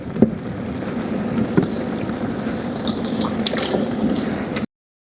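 Water pours into a pot of North Karnataka-style chicken curry with a steady, close gushing and splashing that continues for several seconds before stopping abruptly.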